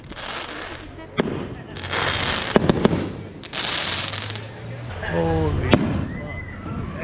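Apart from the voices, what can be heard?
fireworks display exploding outside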